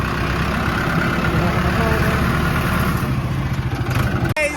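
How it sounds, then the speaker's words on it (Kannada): A tractor engine runs steadily nearby, a loud, continuous low rumble with a throbbing idle rhythm and a brief clatter near the end, with faint voices beneath. "ಈಗ ಟ್ರ್ಯಾಕ್ಟರ್ ಹೊಡ್ಯಾಕತ್ತೀರಿ"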